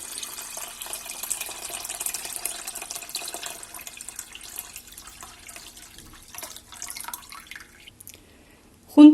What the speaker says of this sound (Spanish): vamos a poner en una cazuela 1 litro de agua